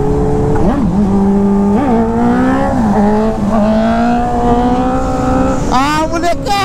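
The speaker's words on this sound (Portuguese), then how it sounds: "Rolezão de moto, faz tempo que a gente não anda" A motorcycle being ridden hums along with a steady engine tone that rises and dips through gear changes, loud and close throughout, with a sharp upward rev near the end.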